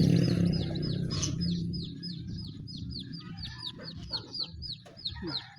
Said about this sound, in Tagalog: Diyan yung mga maingay na manok.